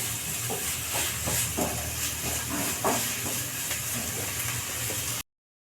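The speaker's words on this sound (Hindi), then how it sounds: "इसको चला चला के फ्राई कर लेंगे" Onions stirred and frying in a pan for a green pea ghugni breakfast dish, giving a steady broadband hiss with soft scraping stir strokes repeating throughout, close and fairly loud, no talking.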